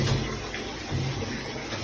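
Water splashes and runs in an uneven, close wash while a dog is bathed with aloe vera shampoo, with soft bursts of splashing rising and falling throughout.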